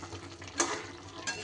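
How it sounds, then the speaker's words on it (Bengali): Fried onions stirred into chicken in a pan for chicken sahajiya: soft scraping and faint sizzling, with a couple of brief louder scrapes of the spoon against the pan. "পেঁয়াজ ভাজাটা দিয়ে এবার সুন্দর করে মিশিয়ে দেব।"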